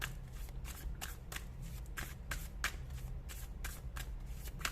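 Tarot cards being shuffled by hand, a steady run of quick riffling bursts repeating at a brisk pace, close and fairly quiet, with no talking.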